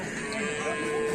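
Cattle mooing at a bull race on Sapudi Island, a low bovine call over steady crowd and outdoor noise with some talk in the background.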